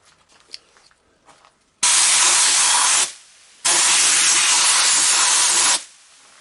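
Two long, loud blasts of hissing air and grit from a blasting gun sandblasting rough cast iron, each lasting a second or two, with brief quiet gaps and faint rustling before the first burst.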